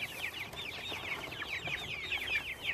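Chickens clucking continuously in a farm coop, a steady layered chorus of many hens at moderate distance, calm and alone without speech.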